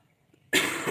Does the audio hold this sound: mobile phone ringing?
no